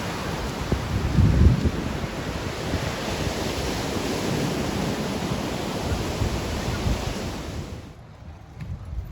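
Stormy sea surf pounds a coast, with gusting wind buffeting the microphone in a dense, continuous roar that eases slightly near the end.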